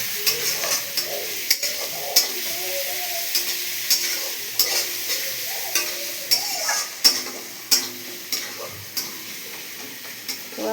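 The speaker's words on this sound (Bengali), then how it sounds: "এবার পেঁয়াজ আর রসুনটাকে ভালো করে একটু কষাতে হবে যাতে পেঁয়াজ আর রসুনটা একটু ভাজা ভাজা হয়ে যায়" Onion and garlic paste is stirred and fried in a pan, giving a steady sizzle with regular scraping strokes of a spatula that repeat about once a second, close up and with no talk.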